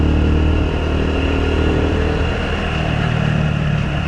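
A Honda Super Cub 110cc motorcycle engine runs steadily and loudly close by, a continuous mid-pitched idle hum with no breaks.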